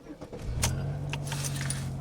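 A Pontiac Grand Am with a rapidly clicking flasher: keys jangle, then the starter cranks and the engine catches into a low steady idle, close by.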